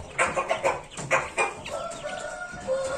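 Several loud, harsh rooster calls and clucks close by, bursting in quick succession, then a longer strained crow toward the end.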